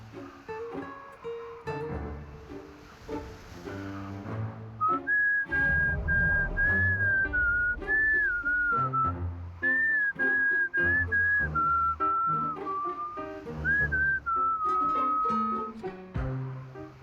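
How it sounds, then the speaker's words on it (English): Someone whistles the melody of La Llorona in the video game Reverse 1999, a clear, wavering tune carried steadily over soft instrumental music for the whole stretch. "Next, whistle the tune of La Llorona."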